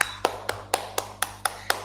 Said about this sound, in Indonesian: Oke, beri tepuk tangan sama Lydia.